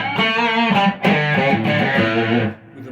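A humbucker-equipped Groves Slimeline Deluxe prototype electric guitar plays sustained, overdriven chords through an original 1964 Fender Vibe reverb amp and an original 808 Tube Screamer, loud and continuous with a brief dip midway and a fading tail.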